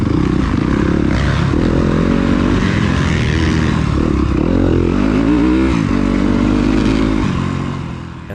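A Yamaha YZ250FX dirt bike races during a nine-hour team race, its engine loud and close, revving and bogging in repeated surges with clatter and scraping, another rider's bike audible behind.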